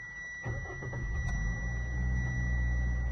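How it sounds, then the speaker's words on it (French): A car engine cranks and catches on a cold start, then settles into a steady, loud low idle that runs close by for the rest of the moment, with no talking. "la chose la plus simple, là, je mets le contact"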